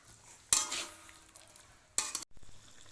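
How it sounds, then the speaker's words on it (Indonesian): Half-fried fish being stirred into a spice mixture in a pan, giving two short bursts of scraping and sizzling, near and clear, separated by a quieter stretch with no talking. "Setelah bumbu diaduk rata, masukkan ikan yang telah digoreng setengah matang tadi. Lalu aduk rata kembali."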